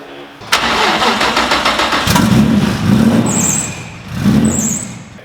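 A twin-turbo Nissan 350Z engine fires up and runs loud and close, revving in uneven surges with a squeal, heard alone with no talk.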